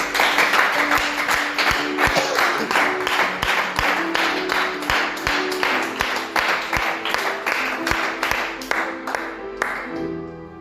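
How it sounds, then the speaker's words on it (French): A church congregation claps in a steady, loud rhythmic beat, sharp regular hand claps carrying on for about ten seconds before fading out. "Est-ce qu'on peut donner une offrande d'acclamation à Dieu?"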